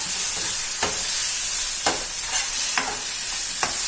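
Fish biryani paste, Kerala style, is stirred in a hot pan: loud, steady sizzling hiss up close, broken by periodic scraping strokes of the spoon roughly every half second to second, with no voices.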